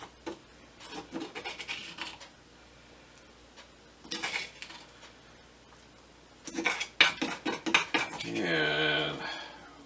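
A metal utensil scrapes the last peas out of a pot in a medieval-style cooking setting. Intermittent scraping and clinking strokes come in short bursts with quiet gaps, ending in a longer, rougher scrape.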